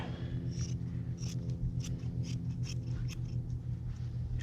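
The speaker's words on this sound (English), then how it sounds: "now we're going to cut a couple of strips from this fiberglass cloth" Scissors snip through fiberglass cloth for a headliner board repair, a quick series of close, crisp cuts over a low steady hum.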